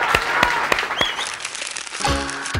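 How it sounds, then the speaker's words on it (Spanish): A studio audience in a television show claps loudly and briefly, with a few sharp distinct claps at first and then a denser burst near the end. "el aplauso para ella"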